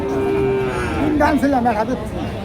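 Cattle at a rural ox market in Kaitla, Tangail, Bangladesh, give a long low moo followed by a wavering, rising call, close and clear over faint background murmur.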